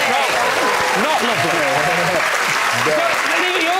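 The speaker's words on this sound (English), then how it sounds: "You're clapping, but that's not got a definite end." Studio audience applause fills a panel-show set, a loud continuous wash of clapping with voices and laughter mixed in throughout.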